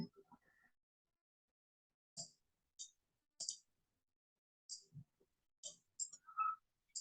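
A computer mouse clicks about nine times at irregular intervals, each click sharp, quiet and close, with a brief murmur of voice at the start.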